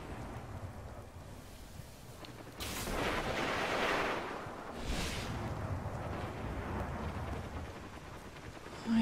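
Heavy ammo artillery strike in a video game: distant booming rumbles swell in two broad waves, roaring and crackling for several seconds before settling into a lower rumble.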